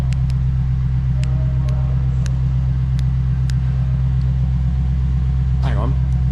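A Lexus RC-F V8 with its PowerFlow custom stainless valvetronic exhaust valves closed idles with a steady, deep rumbling drone, close and continuous, with a few faint clicks and a short chirp over it.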